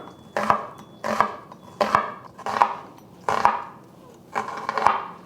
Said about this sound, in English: I like to slice my onion from top to bottom.